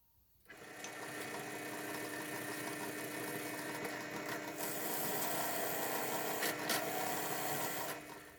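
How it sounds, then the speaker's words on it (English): Drill boring a hole through a metal throttle cable bracket for a Valiant, a steady whirring drone running for about seven seconds, close and fairly quiet, with no talk over it. "drilled just until it's about to poke through"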